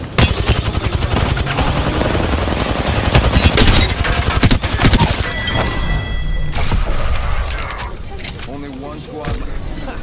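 Heavy gunfire in the video game Apex Legends, dense automatic bursts and shots with impacts and shattering hits, loud and continuous, with voices speaking over the combat.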